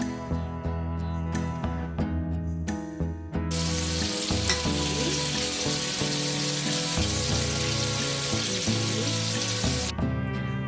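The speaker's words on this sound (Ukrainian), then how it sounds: "будемо нанизувати їх на шпажки і смажити на пательні з додаванням рослинної олії" Loud, steady sizzling of skewered meat rolls frying in vegetable oil in a pan, with occasional clinks and stirring noises, continuing throughout.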